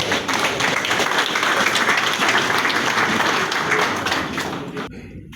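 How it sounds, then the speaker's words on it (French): Audience applause at a book launch, a loud, full round of many people clapping that holds steady for several seconds, then fades and cuts away. "Sous vos applaudissements, bien sûr."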